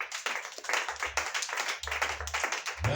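A congregation claps together in a church service, a dense crowd of hands striking in an even, sustained burst that carries loudly through the whole moment without any talk.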